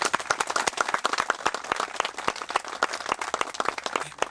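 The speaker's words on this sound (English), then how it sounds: "I would like to see a round of applause for all those people" A crowd applauds at an outdoor groundbreaking ceremony for a youth soccer field, steady clapping with many sharp individual claps close by throughout.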